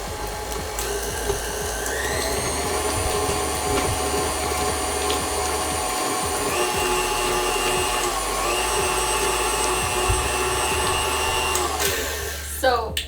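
An electric mixer with a whisk attachment beats vegan vanilla cupcake batter, a loud, steady motor whir close by that holds for the whole stretch, then rattles and shuts off at the end.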